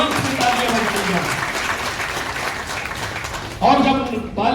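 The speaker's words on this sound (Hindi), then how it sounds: "मैं चाहूंगा इसके लिए एडवांस में तालियां बजाई जाए" Audience applause at a district sports academy awards ceremony for volleyball players, a steady crowd clapping that runs throughout, with a voice speaking over it near the end.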